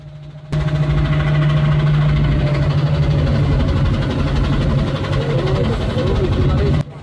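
A trawler boat's engine drones steadily on a crossing to Chera Dwip off Saint Martin's Island, a loud continuous low hum with a mechanical throb that holds evenly throughout.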